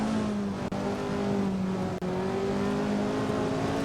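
1967 championship-winning Formula 1 car in a video game, its engine screaming at high revs with two brief cuts for quick gear shifts, loud and close with no talk.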